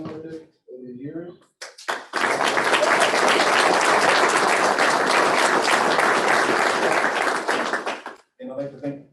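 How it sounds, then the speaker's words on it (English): Audience applause at a school board meeting: after brief talk, loud dense clapping erupts and holds steady for about six seconds, then fades as a speaker resumes. "I'd like to give my mom an applause"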